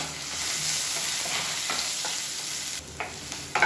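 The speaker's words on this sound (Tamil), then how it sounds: "தேங்காய் சேர்த்து நல்லா வதக்கியாச்சு" Grated coconut and onions sautéing in a pan, a steady close sizzle with stirring scrapes, and a few sharper utensil clicks toward the end, no talk.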